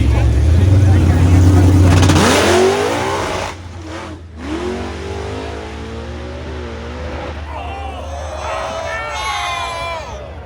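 A loud, deep 2018 Ford Mustang Cobra Jet drag car engine idles and revs on the starting line with a rough, throbbing rumble, then a crowd murmurs and a voice talks as engine noise continues nearby.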